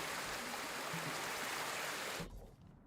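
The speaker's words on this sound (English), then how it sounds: "That water is super loud for me" Steady loud rush of flowing water, like a stream or waterfall, in the Ghost of Tsushima game, filling the clip without voices before cutting off abruptly near the end.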